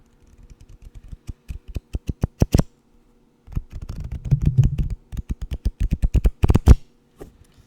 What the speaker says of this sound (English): I do live near casinos, so I'm decent at shuffling